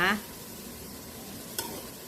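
Eggs cook in a pot of hot liquid with a soft, continuous bubbling sizzle while being stirred gently, plus a brief utensil knock near the end. Quiet and close.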